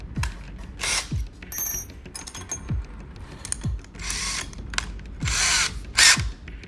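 A handheld power drill bores a new hole in several short, close, loud whirring bursts separated by brief pauses, with ratcheting clicks between them.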